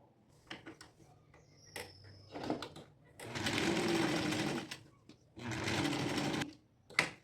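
A sewing machine stitching a fabric seam on a garment runs in two sustained bursts of rapid whirring, close and clear, with short clicks and fabric handling in the quieter gaps before and between.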